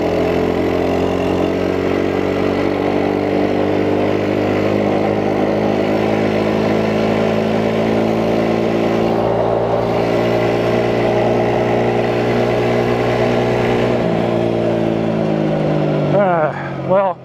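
A Chinese-made quad bike holding third gear, its engine droning steadily with heavy road noise. Toward the end the tone drops, then rises again.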